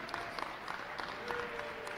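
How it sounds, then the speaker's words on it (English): Applause for seniors at a high school wrestling senior night in a gym, steady clapping at moderate level with a faint background tone and no talk over it. "Let's get one more big round of applause for all of our seniors tonight."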